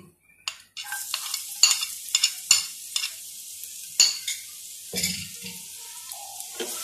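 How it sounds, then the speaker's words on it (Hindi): Garlic sizzling in about two tablespoons of hot oil in a pan while a spoon stirs it, with close, sharp scraping and clinking strokes over a crackling fry that fades and returns, no talking. "और इसे लाइट गोल्डन होने तक फ्राई कर लेंगे"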